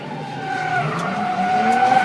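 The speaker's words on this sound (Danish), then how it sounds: "Ja, lad os få brændt lidt gummi af." Toyota Supra tires skidding and squealing as rubber burns, a loud wavering screech over engine noise that rises and holds for about two seconds.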